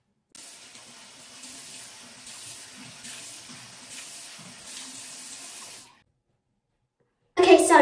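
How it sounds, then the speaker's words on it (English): Water running from a bathroom sink tap while a face is rinsed, a steady close splashing stream that stops suddenly, followed by a brief louder burst. "Now I'm done rinsing my face."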